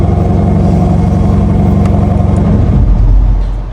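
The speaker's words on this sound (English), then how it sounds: "And that's when the engine comes on." Lamborghini Urus SE, a 2025 model, idling in sport mode with a steady low engine rumble close by, swelling slightly louder toward the end before easing off.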